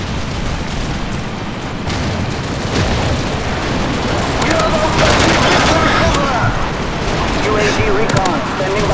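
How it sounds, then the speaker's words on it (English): Call of Duty 4 multiplayer combat: dense, loud gunfire and rumbling explosions from an airstrike fill the scene continuously, swelling in the middle, with game radio chatter mixed in. "Friendly airstrike on the way"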